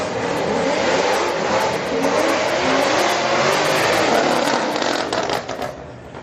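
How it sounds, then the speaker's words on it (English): Chevy and Toyota drag racing side by side at a Friday night street car event at HMP track, a loud continuous engine roar with rapid pulsing that holds steady, then drops off near the end. "Right lane, that Chevy just beat that Toyota."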